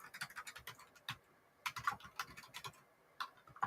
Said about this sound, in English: ignore my typing